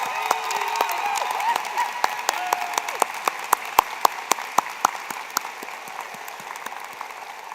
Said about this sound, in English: I'm hoping we can have a warm round of applause for you one last time.